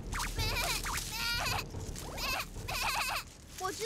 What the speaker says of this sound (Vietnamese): Là tiếng kêu của cừu non.